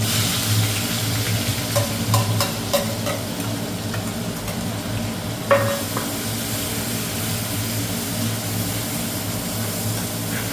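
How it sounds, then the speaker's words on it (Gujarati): Onions tempering in hot oil with bay leaf, cinnamon and cloves for rajma chawal, frying with a steady close sizzle and crackle, a few sharper pops and stirring clinks; no talk. "પહેલાં ડુંગળીનો વઘાર કરીએ."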